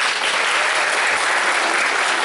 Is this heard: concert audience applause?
yes